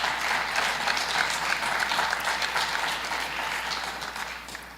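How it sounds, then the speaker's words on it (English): An audience at an evening honors ceremony gives a sustained, even round of applause, a dense wash of many hands clapping that tapers slightly near the end, with no speech over it. "Let us give a round of applause to our honorees."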